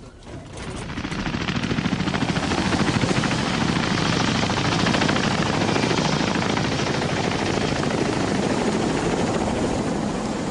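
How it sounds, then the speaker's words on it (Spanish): Helicopter carrying animal cages over forest, a loud steady rotor roar that fades in over the first second and then holds with a continuous chopping thrum, no voices. "El helicóptero deja las jaulas en una zona protegida"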